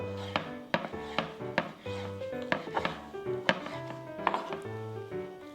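A knife slices pork foreleg into bite-size pieces for pork pancakes, giving a quick series of close cutting taps against a board.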